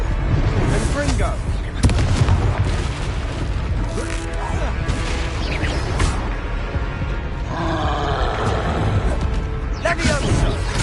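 A Confringo spell explodes in the Hogwarts Legacy video game: heavy booming blasts with a roaring rumble, set in a thick, continuous mix of combat and game sound.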